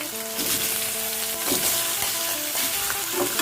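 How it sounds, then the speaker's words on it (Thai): Catfish pieces stir-fry in a hot pan, giving a brief, loud, close sizzle with a few scraping stirring strokes and no talk. "เดี๋ยวน้องจะเอาปลาลงผัดนิดนึงนะจ๊ะ"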